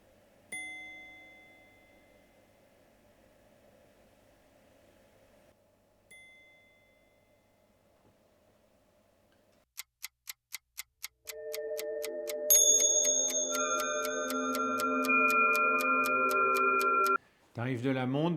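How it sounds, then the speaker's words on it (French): A Delcona Architecture carillon watch chimes: a few isolated bell tones, then a quick run of ticking strikes, followed by a bright multi-note carillon melody ringing out clearly and closely. "Allez, je laisse le bruit de la sonnerie."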